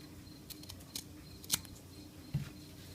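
Scissors make a few quick, crisp snips through elastic for pointe shoes, heard close and faint against quiet room noise, with one heavier cut near the end.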